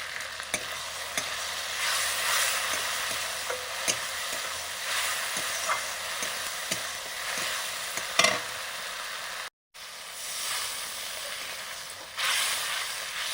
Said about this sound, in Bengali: জল দিয়ে মশলাটা কষে নিচ্ছি